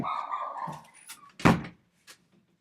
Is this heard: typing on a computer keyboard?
no